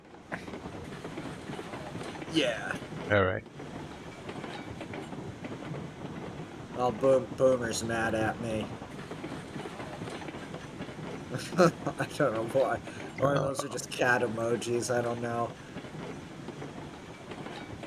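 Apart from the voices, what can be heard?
train rolling into the yard in Railroads Online video game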